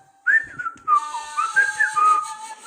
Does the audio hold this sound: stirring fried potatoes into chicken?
no